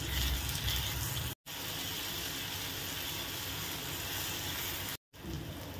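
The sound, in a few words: sautéing chopped tomatoes with fried onion in a pan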